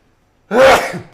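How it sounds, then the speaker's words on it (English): A single loud, close sneeze from a man, one abrupt burst after a moment of silence that trails off quickly. "I'm going to sneeze here"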